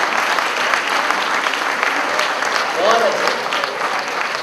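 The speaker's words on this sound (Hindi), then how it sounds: "ताली तो आपकी इस बात पर बजेंगी" Audience at a Hindi poetry recital (kavi sammelan) breaks into loud, sustained applause, dense clapping throughout with a brief voice heard over it.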